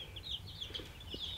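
Young chicks, including Silkies, peeping in a brooder, with a busy run of thin high chirps that rise and fall over a low room hum, fairly close and steady.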